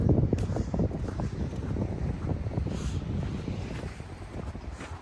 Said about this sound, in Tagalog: Uy, yung mahangin.